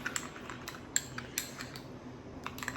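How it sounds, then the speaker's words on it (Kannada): A face pack mixed with water is stirred in a bowl, giving a run of light, quiet clinks and scrapes at an irregular pace over a soft background hiss, with no voices. "ವಾಟರ್ ಹಾಕಿ ಮಿಕ್ಸ್ ಮಾಡಿ"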